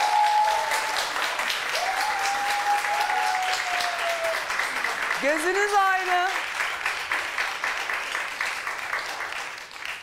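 A studio audience on a Turkish daytime talk show claps steadily for about ten seconds, a dense wash of applause that fades slightly toward the end, with voices speaking over it.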